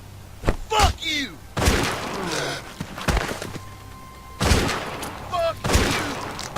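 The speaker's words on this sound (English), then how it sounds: "Looks like a shotgun, like a pump shotgun." Shotgun blasts from a pump shotgun in The Walking Dead video game ring out as several loud, sharp bursts spread across the scene, mixed with game sounds and a voice shouting.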